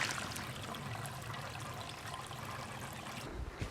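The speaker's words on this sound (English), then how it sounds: "Finally, we came to a trickling brook and were able to refill." A trickling brook along a hiking trail in Kentucky's Red River Gorge in fall, its steady soft water burble continuous and fairly quiet throughout, with no voices.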